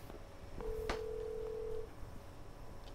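Telephone dialing in the Twilight Syndrome video game: a clear sustained dial tone lasting about a second, with a few faint key beeps around it, heard alone over a low background hum.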